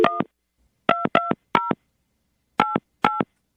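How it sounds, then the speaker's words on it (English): A phone number is dialed on a touch-tone telephone, six crisp beeps in short clusters with gaps between them, loud and close with no talk over them. "we're going to call her right now and see if we can get her on the phone"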